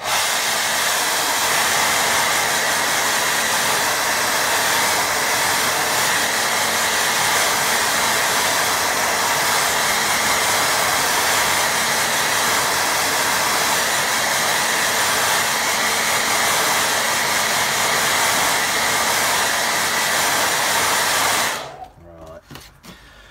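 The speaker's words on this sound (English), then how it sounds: "Let me have a dry again. Done a lot of drying on this one." A hair dryer blows hot air over a watercolour painting to dry the paint, a loud, steady whooshing hiss that runs unbroken for about 21 seconds and then cuts off abruptly.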